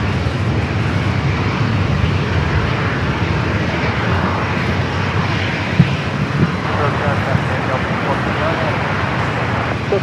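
Fixed-wing airplane on runway 27 at San Diego airport, heard as a steady, loud broadband engine roar that fills the whole stretch, with radio talk running underneath.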